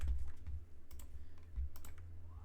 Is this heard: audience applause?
no